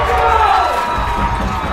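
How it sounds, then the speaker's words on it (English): Crowd roaring and cheering after a goal by a center back at a high school boys soccer match between St. Anthony's and Kellenberg, a dense, loud continuous swell of voices. "but the crowd goes wild anyways"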